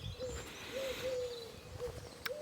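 Pigeons coo outdoors in soft, drawn-out low calls that repeat several times at a moderate distance over a steady bed of ambient outdoor noise.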